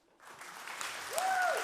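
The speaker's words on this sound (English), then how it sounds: "Applause for them." A conference audience breaks into applause that swells from nothing and builds steadily, with a brief whistle-like tone rising and falling partway through.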